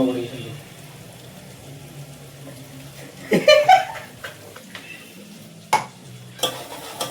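Chicken is stir-fried in oil for a Sunday chicken curry, giving a low, soft sizzle with bursts of stirring and scraping in the middle and a few sharp clinks. A person talks over it.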